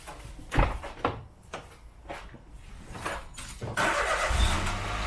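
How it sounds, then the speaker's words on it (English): A Peugeot 107 or VW T6 bonnet is lowered and dropped shut, several close thuds and knocks followed by a louder rumbling clunk as it closes, with no talk. "Let's drop the bonnet down."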